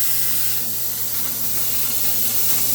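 A plasma cutter slices through 12 gauge steel sheet while cutting out a medallion, giving a steady, loud, unbroken hiss with a low electrical hum underneath.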